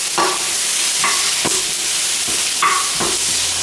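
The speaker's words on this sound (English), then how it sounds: "You got good roast of these peppers and onions here." Peppers and onions stir-fried in a wok for Cantonese sweet and sour pork ribs: a constant hissing sizzle broken by several sharp scraping strokes of a spatula, close and loud.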